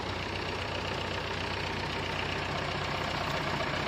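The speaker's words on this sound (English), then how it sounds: "Old school motor, the old bump start." An old-school motor on a farm running after a bump start, a steady close rumbling idle with a rough, slightly knocking pulse and no talk.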